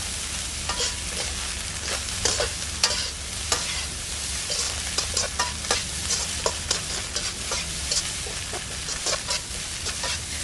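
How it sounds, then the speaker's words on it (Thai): Pineapple fried rice being stir-fried in a pan over a gas flame, with a continuous loud sizzle and repeated scraping and tossing of the spatula, close up and with no talking. "กับสับปะรดค่ะ ใส่ลงไปค่ะ จากนั้นก็ผัดต่อเลยค่ะ ผัดไปสักแป๊บหนึ่งเท่านั้นนะคะ"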